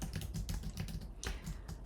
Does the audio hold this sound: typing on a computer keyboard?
yes